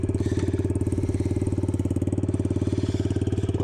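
A Yamaha TTR110 dirt bike engine idles steadily while warming up, a close, loud, evenly pulsing small single-cylinder putter with no talking.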